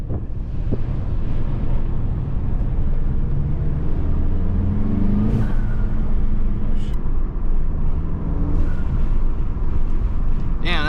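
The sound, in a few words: car engine with aftermarket intake filter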